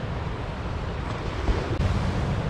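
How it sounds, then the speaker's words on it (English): Ocean surf rolling and breaking at Windang Beach in New South Wales, a loud continuous wash of waves mixed with gusting wind buffeting the microphone. "I guess there's some waves breaking early out there"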